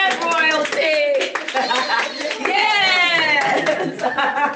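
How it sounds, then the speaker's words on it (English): Courtroom audience clapping during a court session, brief hand claps mixed with cheerful chatter, chuckles and a raised voice, lively and close. "We gonna clap for you."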